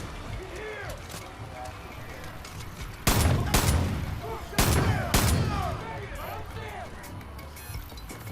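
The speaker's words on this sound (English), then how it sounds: "I have to shoot him with a machine gun" Bursts of automatic gunfire from a machine gun in a shooting video game, two heavy volleys around the middle, loud and close, over a bed of game ambience and faint voice-like sounds.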